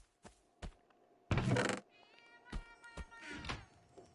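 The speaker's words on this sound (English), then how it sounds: "Ignore that cat sound because I am." A few short cat meows in Minecraft with game-like clicks and thumps, including a loud burst of noise midway, fairly close and with no talking.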